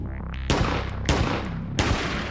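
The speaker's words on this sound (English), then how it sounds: "First, Jessie fires a couple rounds with her non-dominant hand." A handgun fired with the shooter's non-dominant left hand: three loud, sharp shots spaced roughly half a second apart, each with a brief ringing decay, close up with no talking.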